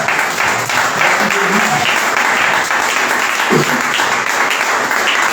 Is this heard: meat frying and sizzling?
no